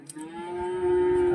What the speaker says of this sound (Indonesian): Ini adalah sapi Simmental.